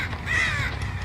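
Crows cawing in the video game Dead by Daylight, a single harsh drawn-out caw rising and falling over a low rumbling game ambience, fairly close and alone with no talk.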